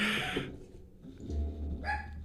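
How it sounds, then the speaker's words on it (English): A household dog gives a couple of short barks at moderate distance, one near the start and another near the end, with a low rumbling background in between. "That's our doggy barking."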